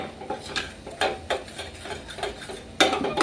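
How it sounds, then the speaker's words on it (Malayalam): Homemade lip balm mixture being stirred constantly in a pan over a flame, with a spoon scraping and clinking against the metal in irregular bursts, close and moderately loud, one sharp clack near the end, no talking. "നമ്മൾ കൈവിടാതെ ഇളക്കി കൊടുത്തുകൊണ്ടേയിരിക്കണം"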